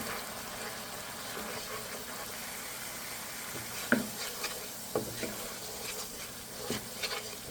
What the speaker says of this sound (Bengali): এখন এগুলো এর ভিতরে কষিয়ে নেব